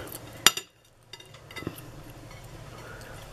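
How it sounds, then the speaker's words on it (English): A knife chops through the end of a hot jam roly poly, giving one sharp clink against the plate or board followed by a few softer taps, close and quiet. "So I just chop the end off."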